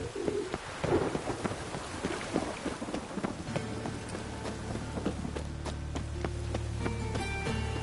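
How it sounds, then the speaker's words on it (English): Steady rain hisses with low rumbling like distant thunder in The Witcher 3: Wild Hunt on PS5, then a droning tone and scattered tonal blips come in, game-like ambience with no voices. "It's raining again."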